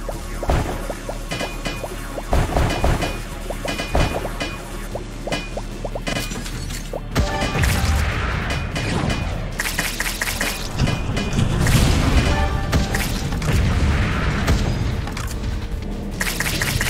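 Bombs and grenades explode in the mining defense game Wall World, sending out a long run of loud, repeated blasts and crashing impacts over a steady, busy game soundscape.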